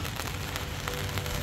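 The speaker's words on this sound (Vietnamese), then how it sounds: "Mưa nhẹ rồi các bạn ơi." Light rain falling at a countryside campsite in Thailand, a steady patter of drops striking a surface with occasional louder taps, close and even throughout.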